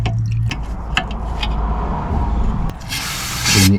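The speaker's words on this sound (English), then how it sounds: "Clean the area up with some brake cleaner." Brake cleaner sprayed onto the rear brake area of a 2010 Audi A3 during a brake fluid bleed, a short hissing aerosol burst after clanking and handling noises, no talking.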